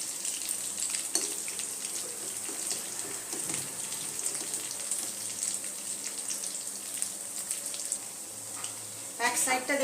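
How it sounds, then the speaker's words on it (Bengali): Crispy potato cutlets fry golden brown in a pan of oil, giving a continuous, fairly loud sizzle and crackle that lasts the whole stretch, with a few utensil clinks near the end. "দেখুন এই পিঠটা গোল্ডেন ব্রাউন করে আমার ভাজা হয়ে গেছে।"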